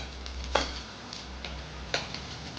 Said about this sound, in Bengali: এবার আমি অপর পিঠ উল্টে দিলাম।